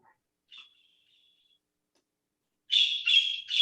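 Short bird calls: a faint chirp followed by a thin trailing whistle, then after a quiet gap a louder run of three clear chirping notes close by, with silence between and no talking.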